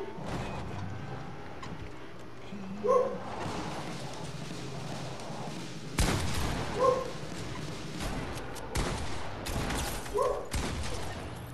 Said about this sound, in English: saw gunshots over here.